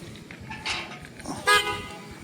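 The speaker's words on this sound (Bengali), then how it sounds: "বাইরে হর্ন বাজলো বন্ধুরা এসছে কি না" A short car horn toot sounds at moderate distance, a single brief honk over quiet background noise.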